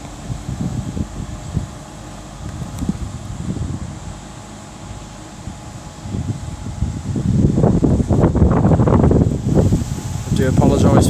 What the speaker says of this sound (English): I do apologise for the wind, I can't do nothing about it.